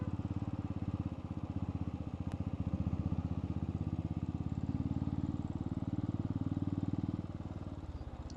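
A motorcycle climbing a steep Darjeeling mountain road, its engine throbbing in a steady, close, continuous drone throughout, with slight surges in loudness and no talking.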